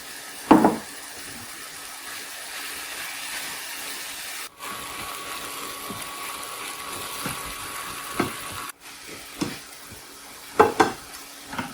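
Fresh spinach sizzling and frying in a pan with garlic salmon and capers, a steady crackle under intermittent louder scrapes and clatters of stirring, close by with no talking.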